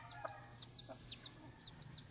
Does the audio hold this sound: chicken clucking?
yes